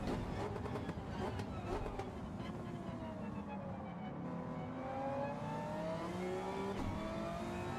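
Race cars in Gran Turismo 7 during a league race, with engine tones sweeping down in pitch as they brake into a corner, several cars overlapping, under a faint talking voice.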